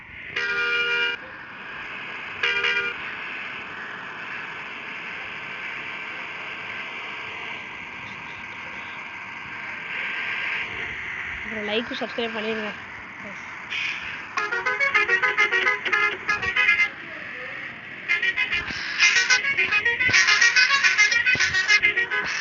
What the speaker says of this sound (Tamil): அப்புறம் இந்த ஹாரன் எப்படி மாற்றணும்னு கேட்டிங்கன்னா,